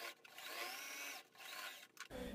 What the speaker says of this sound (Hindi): अब हम इसके चारों तरफ एक सिलाई लगाएंगे।